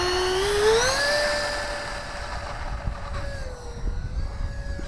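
A Freewing F-16 64mm EDF RC fighter jet on 4S 2200 power runs its ducted fan motor, a close whine that climbs in pitch and then holds a steady, bright tone.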